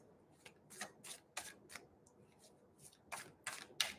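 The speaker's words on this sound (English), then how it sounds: "I just keep on shuffling until they tell me to stop." A tarot card deck is shuffled by hand in a series of quick, soft riffling bursts, close and fairly quiet, with short pauses between them.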